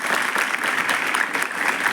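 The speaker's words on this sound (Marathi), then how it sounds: "डोळे उघडा आणि माझं भाषण आवडलं असेल तर जोराने टाळ्या वाजवा." An audience of listeners at a speech breaks into loud, dense applause, many hands clapping steadily and evenly throughout, close and full with no talking.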